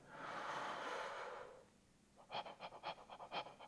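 Panting breath exercise for trumpet playing: a long, loud sustained breath for about a second and a half, a brief pause, then a quick series of sharp rhythmic pants in and out, close and alone.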